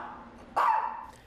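A dog gives a single short bark over steady background noise at an outdoor charity dog walk, the 27th annual Dog-A-Thon in Washington.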